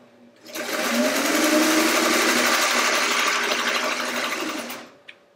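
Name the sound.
sewing machine stitching fabric strips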